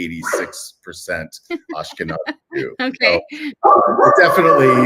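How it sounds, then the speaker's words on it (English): A dog barks and yips loudly near the end, close by and alone, after a person talks steadily about their background. "sorry about my dog"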